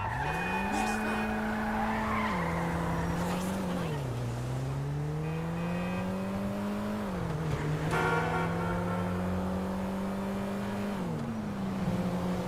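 Tires skid and squeal loudly over a roaring, revving car engine in the GTA V video game, with pitch rising and dropping through several gear shifts across a continuous stretch.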